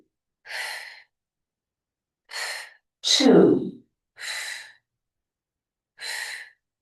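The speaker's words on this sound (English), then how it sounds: "Big full breaths here for 4" Deep, full yoga breaths, five loud, close exhales or sighs spaced about every second and a half, one deeper and longer than the rest, with silence between them.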